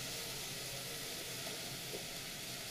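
Whole eggplant charring over an open flame on a home stove, a steady broadband hiss and crackle that holds evenly throughout, with no voices.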